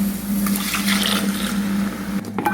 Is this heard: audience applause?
no